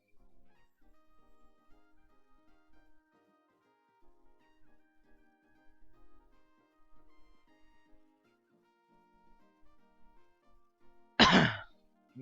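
A single sharp cough, or throat clearing, bursts out loudly near the end after a long stretch of faint, quiet background tones.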